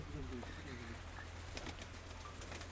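Pigeons cooing, soft repeated low coos near at hand, with faint chirps and some quiet voices in the background.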